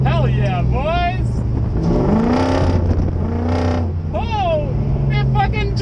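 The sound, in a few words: V8 Mazda drift truck drifting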